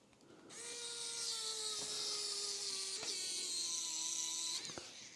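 A cordless power drill drives screws during a wiring check on a Gibson Custom Explorer guitar, whirring steadily at close range for several seconds with a pitch dip partway through and a brief catch near the end.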